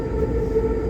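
Riyadh metro train running, a steady low rumbling drone with a sustained mid tone of wheels and motors, heard close and continuous for a moment.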